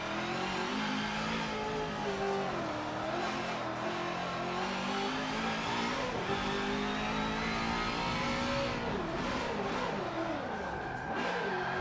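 A race car engine in Forza Motorsport 7 revs loud and steady for about twelve seconds, its pitch climbing and then dropping at each quick gear shift, with a faint tire squeal and no voices.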